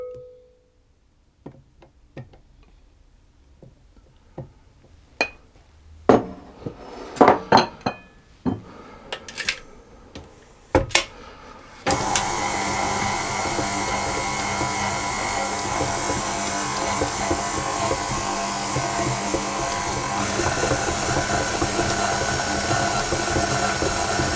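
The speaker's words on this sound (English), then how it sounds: "So I've mixed that for 3 minutes" A mixer creams biscochito cookie dough in a bowl: scattered clinks of utensils and dishes come first, then a loud, steady whirring drone starts partway through and runs without a break to the end.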